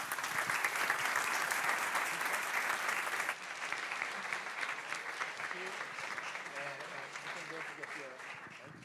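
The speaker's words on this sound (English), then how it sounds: "A warm applause." Warm applause from an audience at a tech talk event, full clapping at first that drops suddenly to a quieter, thinner patter, with voices talking faintly underneath.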